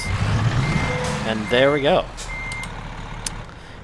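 A Peterbilt 567 truck in American Truck Simulator backs up with steady electronic reversing beeps over its idling engine, while someone speaks over part of it.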